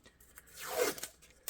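Blue tape is pulled off a roll with a quick rising rip and then pressed down during holster making on a foam press. The sound is close and fairly soft, with a short tap at the end.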